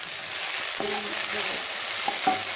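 Okra (ladies finger) fried with chili powder and salt in a pan, a steady close sizzle with a few scraping stirs of the spoon across the pan.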